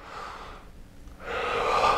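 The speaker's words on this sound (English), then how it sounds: "Take a deep breath like that" Someone draws two audible breaths up close: a soft exhale or inhale, a brief pause, then a longer, louder rushing deep breath, with no speech.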